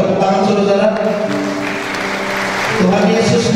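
A church congregation at a Sunday evening service applauds a drummer, a steady wash of clapping that carries through the whole stretch over a low, sustained musical drone.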